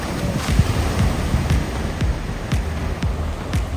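Ocean surf at a Puerto Rico beach, a continuous broad wash of breaking waves with gusty wind buffeting the microphone and no voices.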